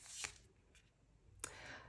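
Tarot cards being handled and shuffled, a few quick papery riffles and slides, close and quiet, with soft pauses between.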